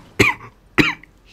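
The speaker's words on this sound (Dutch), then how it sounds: "Ik serieus haat die hoest." Two sharp, close coughs about half a second apart, each a short harsh burst that quickly fades, from a character in the video game GTA V.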